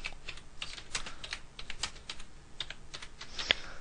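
Quiet, close typing on a computer keyboard, a steady run of light key clicks with one sharper tap near the end.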